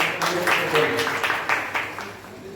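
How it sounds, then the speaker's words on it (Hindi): Guests at a retirement farewell ceremony clap in a loose, rhythmic patter of separate claps, moderately loud, with voices murmuring underneath. "जोरदार तालियों के साथ"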